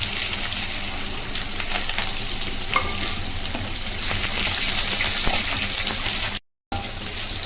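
Curry leaves, green chilies and sliced onion fry in hot oil for pepper rice, a steady close sizzle with scattered pops and spatula stirs, broken by a brief cut to silence near the end.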